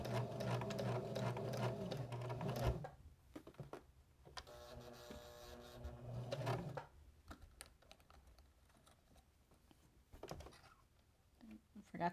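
A sewing machine stitches fabric for a small apron recipe holder, buzzing steadily up close, then halting with scattered clicks and taps before short bursts of stitching resume, all fairly quiet.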